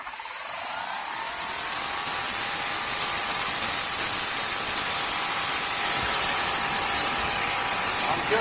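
Greenworks Pro 2200 PSI pressure washer spraying through a 40-degree nozzle, a loud steady hiss of water jet that starts abruptly and holds constant with a faint motor hum underneath.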